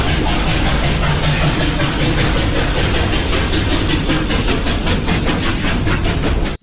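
An express train runs past in a loud, steady rumble with a rhythmic clickety-clack of wheels that carries on without a break, then cuts off suddenly at the end.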